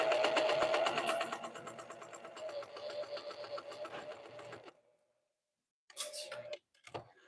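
A sewing machine stitches with heavy thread in fast, even whirring runs for about five seconds, slowing near the end, then falls silent before two short final bursts.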